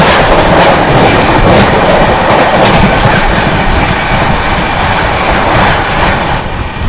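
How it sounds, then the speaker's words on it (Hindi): A Vadnagar–Valsad Intercity Superfast Express rushes loudly past a railway crossing, a dense, sustained roar of wheels with rhythmic clickety-clack of coaches running close by for the whole stretch. "वादनगर से चलकर वलसाड की ओर जाने वाली इंटरसिटी सुपरफास्ट एक्सप्रेस"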